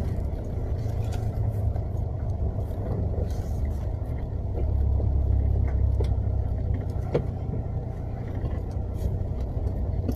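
A car drives slowly while searching for a parking spot, its steady low engine and road rumble close and continuous, swelling slightly midway, with no talk.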